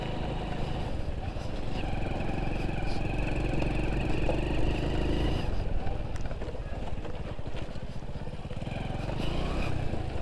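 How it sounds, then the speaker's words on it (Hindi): Motorcycle engine labouring steadily while climbing an off-road hill in the Aravalli Hills, loud and continuous throughout with heavy wind buffeting on the microphone. "भाई पूरी बाइक चढ़ा दी हमने पहाड़ों पे"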